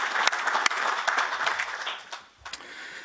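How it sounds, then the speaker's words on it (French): An audience at a farming project seminar applauds itself, a steady patter of many hands clapping indoors with a few sharper claps standing out, then fading away toward the end. "je vais vous demander de vous applaudir pour vous remercier de ce que vous avez fait"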